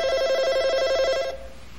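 A telephone bell rings loudly and close in a steady trilling burst lasting over a second, then cuts off, leaving faint room tone with no one speaking.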